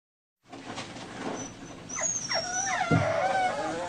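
Dogs whimper and whine in high, sliding cries, several overlapping, close by and moderately loud after a brief silence.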